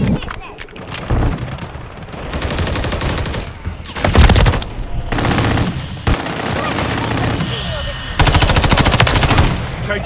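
Call of Duty Modern Warfare 3 multiplayer gunfire: bursts of loud, rapid machine-gun fire broken by short pauses, with faint game radio chatter and background battle noise mixed in.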